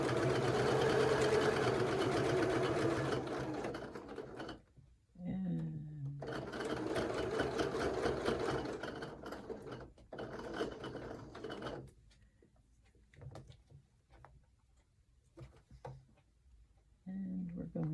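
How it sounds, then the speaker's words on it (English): Sewing machine stitching a fabric ornament in steady running bursts, stopping and restarting several times, with a person talking quietly in the pauses. "Stitch down the side."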